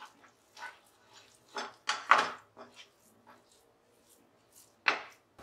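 A spoon scrapes and taps against a pan while a thick milk sweet with cardamom powder is stirred, giving a series of irregular close knocks and scrapes with quiet gaps between them.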